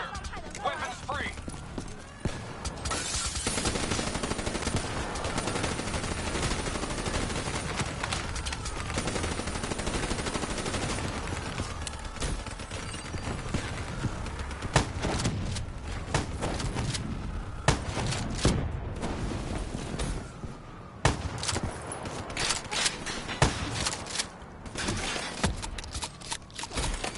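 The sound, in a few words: gunfire in the video game Call of Duty: Black Ops 3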